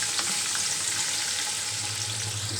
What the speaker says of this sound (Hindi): पहला प्याज को गोल्डन ब्राउन कर लेंगे।